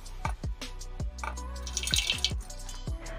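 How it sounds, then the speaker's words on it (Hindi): Hot water draining from boiled Nissin Korean veg ramen noodles, a run of close splashes and drips with pouring liquid in between, irregular and fairly quiet, no talk. "यहाँ पर हम इसके पानी को निकाल रहे हैं, इस नूडल्स के पानी को।"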